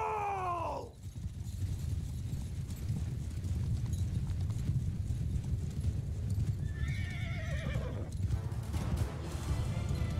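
Horses gallop in a steady, rapid clatter of hooves, with loud whinnies near the start and again toward the end, in the video game Mount & Blade II: Bannerlord.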